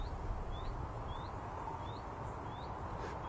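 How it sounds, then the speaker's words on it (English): A bird outdoors repeats a short thin rising chirp about every half second, faint and far off over steady broadband background noise. "Can you hear that bird there?"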